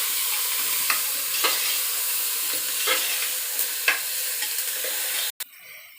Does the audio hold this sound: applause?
no